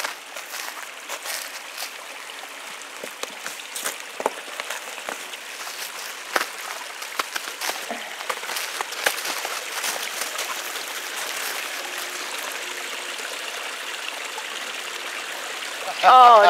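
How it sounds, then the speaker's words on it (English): Water trickles and splashes steadily through a spring-fed seasonal creek outdoors in snowy terrain, a continuous soft broadband rush with scattered brighter ticks, ending in a brief louder burst near the close. "Our seasonal creek."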